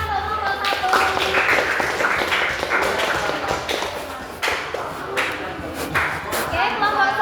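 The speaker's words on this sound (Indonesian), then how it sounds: "Tepuk tangan untuk kelompok 1." A classroom group claps after finishing its presentation, with scattered taps and thumps from the class, sharper bursts of clapping, and a voice talking underneath.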